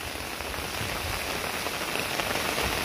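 Steady, dense rain pours down on a hard surface in Nepal, a constant hiss with no pauses.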